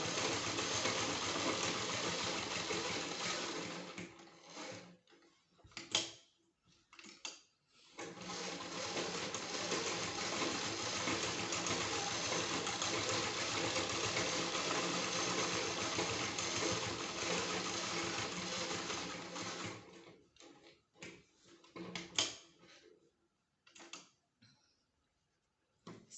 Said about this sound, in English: our sewing is going to be very close to the edge